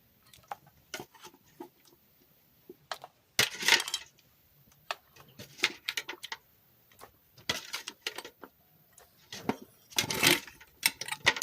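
Pork ribs go into a pot of mole verde with a series of sharp clinks, knocks and scraping thuds against the metal, irregular and close, separated by quiet gaps.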